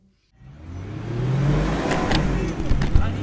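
A four-wheel-drive car starts up and crawls along a muddy dirt and stone road in rural Colombia after a night of rain, with a steady low engine rumble and occasional knocks and bumps, close by.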